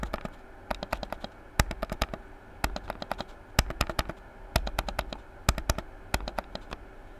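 Rapid clusters of crisp clicks from a Logitech MX Master 3S mouse's buttons, close up and moderately quiet, arriving in irregular groups separated by brief gaps, with no voices.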